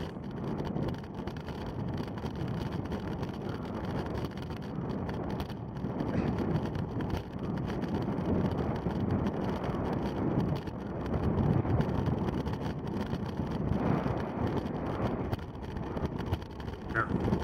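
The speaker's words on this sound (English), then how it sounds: "As soon as we come around the corner and you hit the wind again" Wind roaring across a cyclist's microphone during a Cat 5 criterium race in Louisville, 2019: a loud, continuous buffeting rumble that swells and eases slightly across the whole stretch, with no clear voices.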